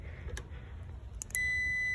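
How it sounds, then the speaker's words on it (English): A multimeter set to continuity gives a steady high-pitched beep as the probes test a heat pump circuit, starting suddenly after faint handling noise and sounding clearly close up. "that beep right there says it's a closed circuit"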